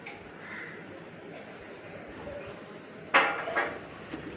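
A few faint clinks and a sharper clatter of dishes in a home kitchen while tea is made and milk heats, isolated metallic knocks over quiet room noise.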